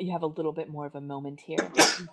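A person speaks briefly, then a sharp, loud sneeze bursts out at the end.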